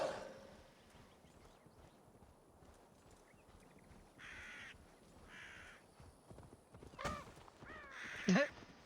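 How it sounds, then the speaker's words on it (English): A crow caws in a video game, bursting out near the end as a couple of loud, harsh calls over a steady background of game ambience and hoof-like clopping. "I just hit a fucking crow."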